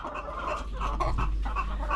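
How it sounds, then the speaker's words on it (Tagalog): A flock of pet laying hens keeps up a constant, overlapping clucking close at hand, over a low steady hum. "Ayan yung mga king mga lagang manok,"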